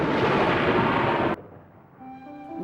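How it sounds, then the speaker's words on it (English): Thunder in an animated Hercules bootleg film, a loud, broad rumbling boom that fills the sound and then cuts off abruptly, followed by quiet low tones. "with the thunder booming so loud, you feel it through the TV."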